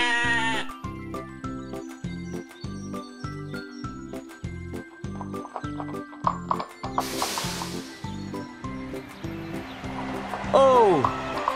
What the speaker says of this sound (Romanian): O oaie.